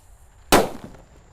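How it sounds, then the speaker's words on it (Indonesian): A purple happy flower firework goes off with one sudden sharp pop, then a brief fizzing tail fades into quiet. "Lanjut di sini ada happy flower yang warna ungu guys. Kita nyalakan, let's go."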